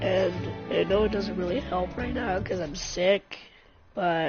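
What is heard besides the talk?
No everyday noise stands out behind the speech.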